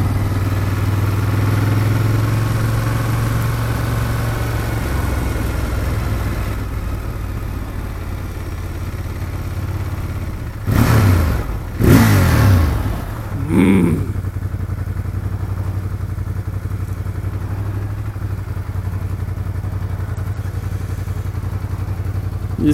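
A 2016 Ducati Monster 1200 R idles steadily close by, then gives a few short sharp revs in quick succession before settling back to its low, even idle.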